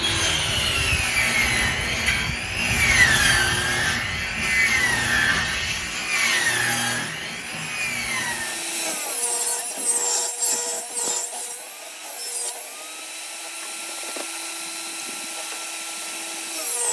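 A power saw trims rough-cut pine and cedar boards, a loud whining cut with the motor running, then it spins down into a quieter hum and clatter of wood being handled.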